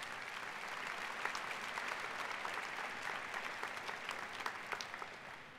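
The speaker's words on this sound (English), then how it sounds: "I would ask all of you to please give these two gentlemen a huge, huge round of applause for everything they've done." A large graduation ceremony audience at the 2017 Heinz College diploma and awards event applauds steadily, a dense and even wash of clapping from many hands that lasts throughout without a break.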